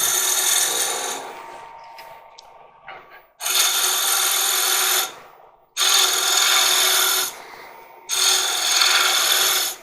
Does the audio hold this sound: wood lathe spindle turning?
yes